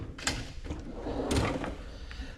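Drawer of a Snap-on toolbox sliding open or closed, a few short rolling clunks and rattles close by in a garage setting, with no talk.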